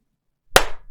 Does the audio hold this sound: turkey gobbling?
no